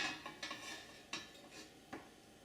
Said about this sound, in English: Put a wok on the stove.